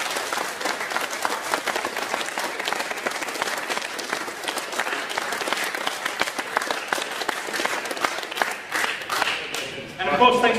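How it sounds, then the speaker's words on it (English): A tournament crowd claps loudly and continuously for about ten seconds, a dense patter with occasional whoops, tapering toward the end as voices return. "Can I get a huge round of applause then, please?"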